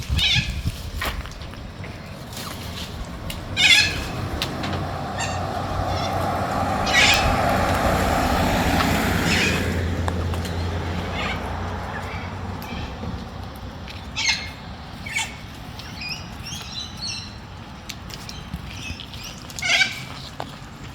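White corellas, a flock calling from a tree along a suburban street in Melbourne, give repeated harsh squawks that come and go over a steady outdoor hum, with louder bursts near the start and end.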